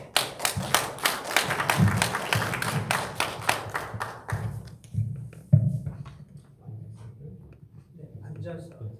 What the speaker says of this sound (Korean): 발제를 큰 박수로 시작하도록 하겠습니다